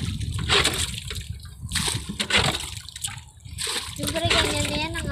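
Sea water splashes and sloshes in repeated bursts close by, with voices speaking and shouting over the waves.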